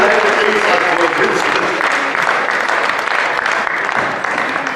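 A crowd at a company Christmas party applauds in a full, sustained round, many hands clapping steadily and fairly loud, thinning a little toward the close.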